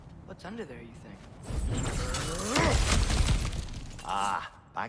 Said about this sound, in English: back to smashing some things for fun and profit